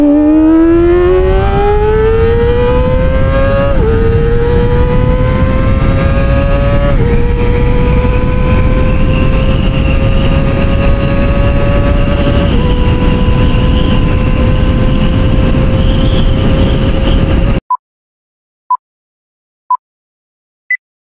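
A Kawasaki Ninja ZX25R four-cylinder motorcycle engine revs hard and close, its pitch climbing through several stepped gear-like rises into a sustained high scream, then cutting off to a few short sharp blips.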